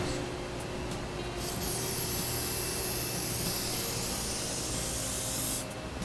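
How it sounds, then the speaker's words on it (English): A steady hiss of silicone aerosol spray on a steel door runs for about four seconds, close by, then cuts off, leaving a quiet room tone. "I recommend spraying that with silicone just to make the door easier to close."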